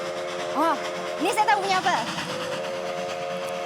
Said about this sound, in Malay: itu adalah bunyi kereta api